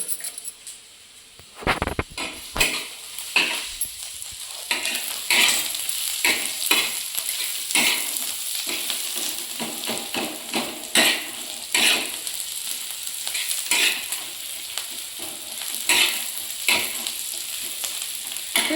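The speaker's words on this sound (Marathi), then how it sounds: "एकत्र कांदा खोबरं करून थोडंसं भाजून घेऊ आपण" Onion and grated coconut roast together in a pan, stirred with repeated scraping strokes that rattle and clink over a constant sizzle, continuing for close to twenty seconds without speech.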